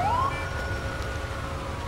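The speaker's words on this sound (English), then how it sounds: "Oh, here comes the ambulance" An ambulance siren in the video game GTA IV with the LCPD First Response mod, set in winter, wails steadily and fairly close, rising at the start and then holding over a rumbling engine bed, with no talk.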